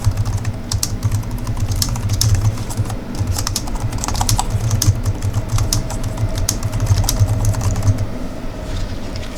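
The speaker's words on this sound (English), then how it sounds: "it has the added benefit of also dampening some of the sounds that comes out when you're typing" Steady, rapid typing on a multi-device Bluetooth wireless keyboard with soft, dampened clicky keystrokes, continuous and close, over a low background hum.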